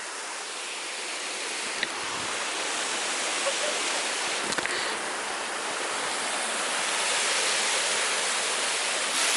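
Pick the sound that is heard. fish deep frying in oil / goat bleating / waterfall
waterfall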